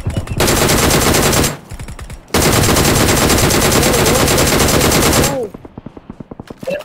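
Sustained machine gun bursts in the mobile shooter PUBG Mobile, loud rapid automatic fire in two long volleys separated by a short pause, then scattered shots as it tails off.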